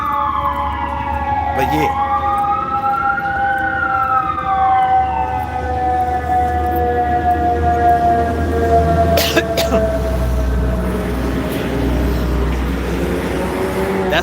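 An emergency vehicle siren wails past outdoors, its rising and falling tone sweeping up then gradually dropping and fading, with road traffic rumble underneath and someone speaking briefly near the end.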